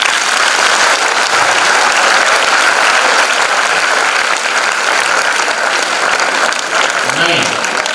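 Audience at an event in Ahmedabad gives loud, sustained applause, a dense wash of clapping hands that fills the whole stretch with no break.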